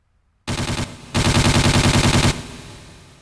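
An automatic gun with a big tube magazine on top fires in the Jurassic Park: Trespasser video game: a short rapid burst, a brief pause, then a longer loud burst of evenly spaced shots, trailing off into a fading echo.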